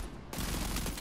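Rapid automatic gunfire from the sci-fi shooter Warframe bursts in after a short quiet lead-in and continues as a dense, loud, continuous volley for the rest of the moment.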